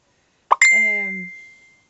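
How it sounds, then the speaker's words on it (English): A tablet plays a single notification ping, a bright bell-like tone that rings out clearly and fades over about a second, heard alone in silence. "every time I do a video from my tablet, ping ping ping ping"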